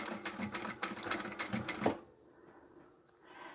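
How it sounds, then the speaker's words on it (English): A sewing machine backstitches through bulky vinyl for a custom swatch bag, a close, rapid run of needle strokes lasting about two seconds before stopping, followed by quieter handling sounds. "because there's a lot of bulk here, I'll backstitch over that again"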